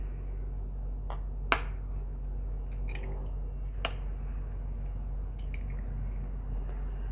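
Two eggs cracked into a bowl, each giving a sharp, close crack followed by a soft wet squish and drip, over a steady low hum.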